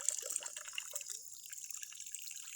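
Weak water from a home tap runs as a thin, steady trickle with small dripping splashes, close and quiet against a hissy background.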